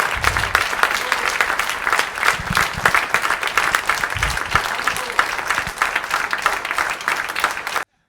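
An audience applauding loudly for high-school students honoured as young citizens. Dense, sustained clapping runs for nearly eight seconds, with a few heavier thumps mixed in, before cutting off abruptly.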